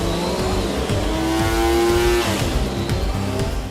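An MV Agusta three-cylinder motorcycle engine runs on a dynamometer in a test room. It revs hard with a loud, buzzing, harmonic howl that rises and falls in pitch over a few seconds.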